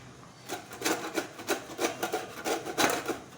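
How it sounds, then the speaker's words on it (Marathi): Coconut is grated by hand for rice kheer in a home kitchen, giving a close, rhythmic rasping scrape with repeated strokes at an even pace, fairly quiet and with no talk. "ते मी आता खोबर किसून घेत आहे"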